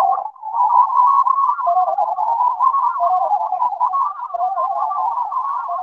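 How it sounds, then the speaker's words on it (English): Star Trek shuttle sound effect: a loud, continuous electronic warble that wavers steadily in pitch for several seconds, with no talking. "It's the noise of the shuttle."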